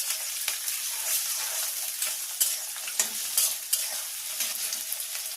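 Green beans fry and are stirred in a hot pan where cashews and raisins were just toasted, giving a steady close sizzle with scraping stir strokes, no voices.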